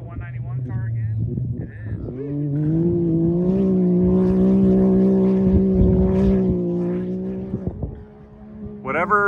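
A Can-Am race car engine roars past at King of the Hammers 2023 with a rising then falling pitch, loud and close, while people talk excitedly over it.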